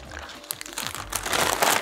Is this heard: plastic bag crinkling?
yes